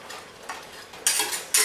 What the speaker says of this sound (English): you want to keep whisking this until the egg gives you a creamy texture